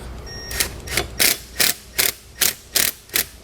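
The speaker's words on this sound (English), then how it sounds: "You want to use a 7/32 Allen socket to tighten it up." A ratchet with a 7/32 Allen socket tightens a bolt while a SumoSprings helper spring is fitted to a 2004 Workhorse chassis. Eight evenly spaced, crisp clicking bursts sound up close, with no talking.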